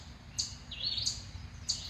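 Small birds at a backyard feeder give a few short, high chirps spaced about half a second apart over a quiet outdoor background.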